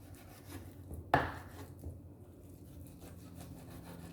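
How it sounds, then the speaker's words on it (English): A knife trims fat off a beef shank, one sharp scraping cut followed by softer rubbing strokes, close and quiet. "I'm taking off all the fat"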